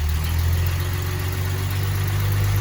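A Mopar flathead engine runs steadily with a deep, loud low hum and faint vibration, holding a near-constant idle-like drone throughout with no clear rev rise and no talk.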